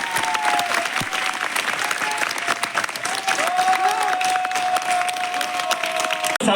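Seminar audience breaks into steady applause, many hands clapping in a dense, continuous patter that holds for several seconds, with a faint tonal whistle or hum running beneath it.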